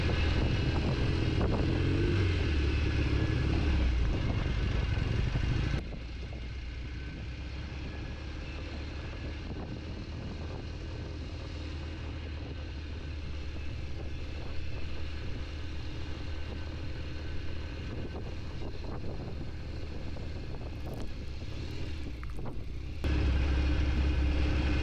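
A Norton motorcycle rides down a long downhill driveway to a mountain retreat, its engine a steady drone that drops in level after a few seconds, then swells again near the end, with no talking.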